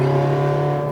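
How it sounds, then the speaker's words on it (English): A Ferrari F430 accelerates on a racetrack out of a bump, its engine holding a loud, steady droning tone close by, with no talk over it. "Let it roll over the bump and then accelerate out of it."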